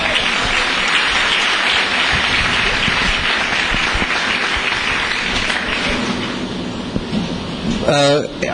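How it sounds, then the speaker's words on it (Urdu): Church congregation clapping loudly and continuously, a thick wash of applause that holds steady and thins slightly near the end, with a brief rattling noise just before it closes. "یسوع کے لیے زوردار تالیاں بجائیں"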